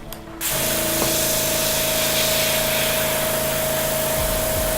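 Airbrush spraying base-colour paint for Warhammer miniatures, a steady close hiss that starts abruptly after a brief pause and holds evenly throughout, with a faint tonal whine running beneath the spray.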